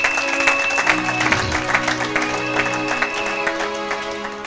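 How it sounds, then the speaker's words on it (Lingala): A church congregation applauds steadily in loose, continuous clapping over sustained musical tones, at moderate loudness with no talk. "Acclamons pour la gloire de notre Dieu"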